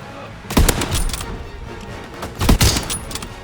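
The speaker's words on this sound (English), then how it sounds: "I also love the sound effects in this game, especially the headshot sound effect." Gunfire from the Call of Duty: WWII video game, with hits landing on enemies: two loud, close bursts of shots with heavy low thumps, about two seconds apart, over a steady rumble of battle.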